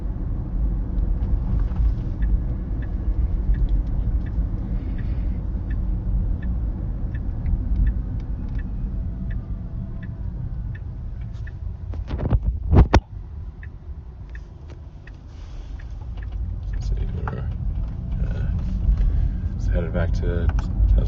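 A Tesla car driving itself on FSD Beta through Palo Alto, heard from inside the cabin as a steady low road rumble and hum, with a few sharp clicks near the middle.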